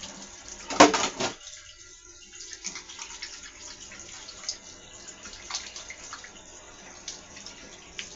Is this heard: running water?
yes